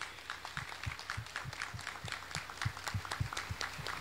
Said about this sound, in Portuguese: Vamos acolhê-los com uma salva de palmas bem bonita